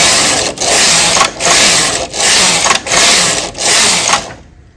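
A domestic knitting machine carriage is pushed back and forth across the needle bed, five loud rasping whooshing passes in a steady rhythm, each with a short pause between, ending abruptly in silence.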